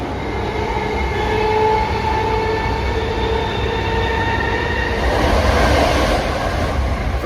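Steady rumble and rush of a Class 319 electric train running through a tunnel in London, with a continuous low roar, faint high whine, and rattling throughout.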